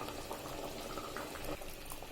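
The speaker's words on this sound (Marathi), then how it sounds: "आमटीला छान उकळी आलेली आहे" Karwar-style black-eyed bean curry, chawli amti, boils in a pot with a steady close bubbling and gurgling that stays even in loudness throughout, with no voices.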